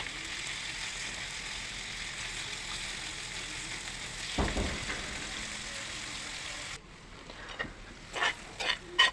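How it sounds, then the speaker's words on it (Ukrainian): Chicken fillet sizzles steadily in a frying pan, a dense close crackle that runs for several seconds, then drops away to quieter scattered pops and a few stirring clicks near the end. "Кидаємо філе куряче, трішки пережарюємо, але не до готовності."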